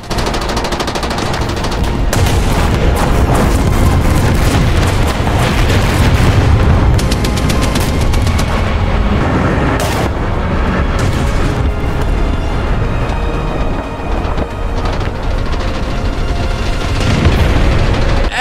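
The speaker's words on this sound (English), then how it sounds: "Excellent roof shot from the KV-2, making it so the explosive mass from its HE shell was able to overpressure the area." KV-2 tank HE shell explosion in the War Thunder video game, amid a loud, dense battle of rattling gunfire and deep booming blasts that continues without a break.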